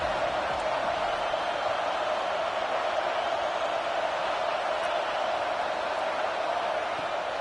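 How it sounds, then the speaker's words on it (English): Steady roar of a packed football stadium crowd at an Auburn–Alabama game, a dense continuous wash of cheering and noise holding at an even level throughout with no distinct voices standing out. "This crowd bringing the energy and noise early"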